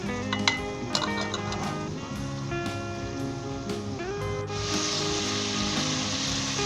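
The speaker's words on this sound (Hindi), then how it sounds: "मैंने 2 से 3 मिनट अच्छे तरीके से अदरक लहसुन डाल के छोटे गोश्त को अच्छे तरीके से भून लिया" Small pieces of mutton frying with ginger and garlic, a constant sizzle with scattered clinks and scrapes of stirring. The frying swells louder in the last couple of seconds.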